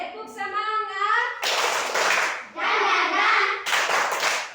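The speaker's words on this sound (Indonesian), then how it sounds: "Ice breaking yang kita akan lakukan adalah tepuk semangat, dang, ding, dan dung." Children chanting together in a group ice-breaker, alternating with bursts of unison clapping in a rhythmic pattern, fairly close.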